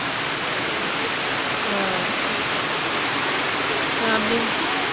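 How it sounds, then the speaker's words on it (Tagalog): Heavy rain pours down in a steady, loud, broadband hiss that never lets up, with faint voices talking underneath. "Grabe. Lakas ng ulan."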